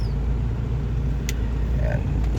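A vehicle engine running steadily at idle, a low continuous rumble throughout, close and moderately quiet, with faint background sounds.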